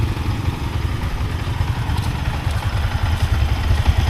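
A bus engine idling before a long-distance departure from Mindanao toward Luzon, a loud, steady low rumble with faint clattering, close by and with no talk over it.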